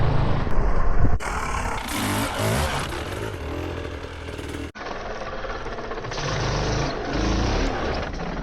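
A hard enduro dirt bike revs hard and loud up close while riding over a log, its engine note surging, cutting briefly and then roaring again.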